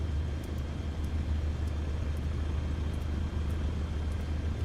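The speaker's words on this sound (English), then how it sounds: "The plane sounds just like the rocket." Steady airplane engine drone in Microsoft Flight Simulator 2024, a continuous low rumble and hum holding at an even level with no talk.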